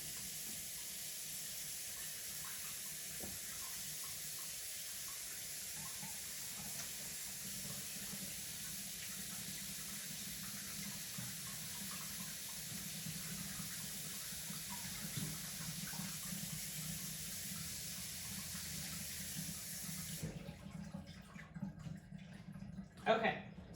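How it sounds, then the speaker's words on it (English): Warm water runs steadily from a kitchen tap as a continuous broadband rush, close and moderately loud, cutting off near the end before a brief clatter. "Okay, so very warm water."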